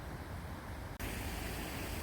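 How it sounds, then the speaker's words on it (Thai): Water runs steadily through a partly frozen stream and icy waterfall on a snowy, below-freezing winter day, a soft, even rushing hiss that continues without a break apart from one brief dropout. "มีบางช่วงที่ยังเห็นน้ำไหลอยู่นะคะ"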